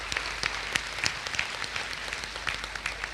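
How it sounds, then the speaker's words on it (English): A crowd claps steadily in a sustained round of applause at a St. John's Medical College convocation, with scattered sharper claps standing out, and no voices. "A loud round of applause to all the jubilarians."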